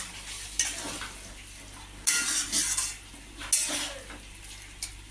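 Spoon stirring ground spices such as coriander powder in a pan while cooking a mixed vegetable curry with prawns, with scraping and clinking strokes in a few bursts and a soft sizzle beneath, with no talking.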